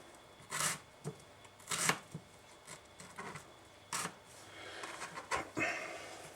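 A knife slices a red onion finely on a cutting board, giving several close, crisp broadband cuts spaced irregularly, with softer scraping strokes between them and no talk.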